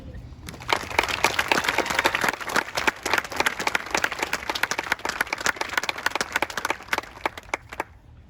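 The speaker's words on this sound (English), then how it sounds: "Everybody could just stand up, give Mark a big round of applause." Loud, sustained applause from an audience at a presentation honoring a retired Sergeant First Class, dense clapping rising quickly and holding steady for several seconds before fading.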